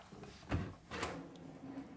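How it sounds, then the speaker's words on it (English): A drawer in a travel trailer kitchen slides open with a short muffled thump and a soft scrape, quiet and close by. "I see 1 more drawer underneath. Let's take a look."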